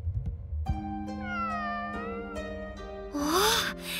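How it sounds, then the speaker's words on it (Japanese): A cat meows several times in Sword Art Online Alicization Lycoris, clear drawn-out mews close by, ending in a louder, stronger caterwaul-like cry, with no talk over it. "この声は 猫。"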